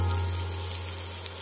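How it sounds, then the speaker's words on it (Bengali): Onion fries in a pan for a beans bhorta, a steady, close hiss and sizzle with a low hum beneath, no talking. "পেঁয়াজটাকেও ভালো করে ভেজে নিতে হবে"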